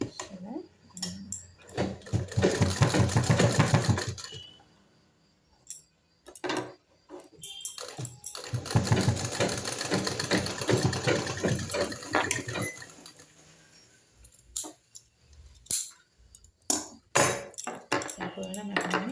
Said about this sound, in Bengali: এইভাবে সেলাই করে নেব।